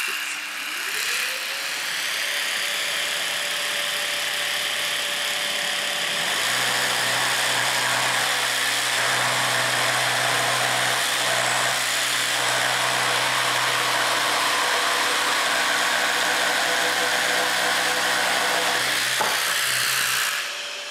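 A Festool Carvex PS 420 jigsaw fitted with a golden Carvex blade, set to orbital stroke 3, whines up to speed and then cuts steadily through wood, loud and close, with a rough sawing buzz under a high motor tone.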